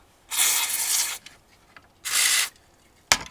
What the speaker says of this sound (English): I'm going to get some WD-40 contact cleaner. And I'm just going to give all of these contacts a quick rub